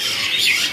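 A green leafbird at a bird market gives one short, loud, harsh squawk up close, with no talk over it.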